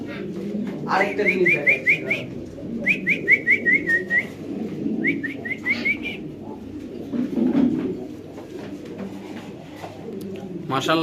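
Lahori pigeons, offered for sale, give repeated cooing and whistled calls in short bursts. The birds sound close and mix with a steady background murmur of people talking.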